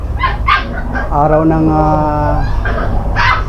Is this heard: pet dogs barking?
yes